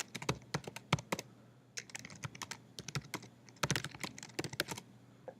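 Rapid typing on a computer keyboard, close and crisp, with clustered key clicks in uneven bursts and brief pauses, no voices.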